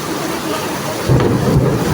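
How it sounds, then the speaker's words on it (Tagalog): Heavy evening rain with thunder roars steadily, growing louder and deeper partway through as the downpour intensifies, with a low rumble underneath. "Lakas ang ulan."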